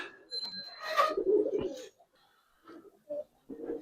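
Giribaz and coloured pigeons coo nearby in a few soft, low bursts, with a brief higher chirp early on and short quiet gaps between calls.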